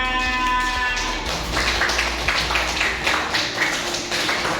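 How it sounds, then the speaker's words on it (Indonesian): A group of students clapping together in an Islamic religious education classroom, a dense continuous patter of many hands at close range, steady throughout with a faint tonal hum at the start. "Tepuk tangan untuk kita semuanya"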